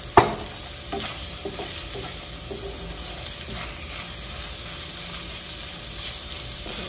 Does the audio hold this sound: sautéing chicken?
yes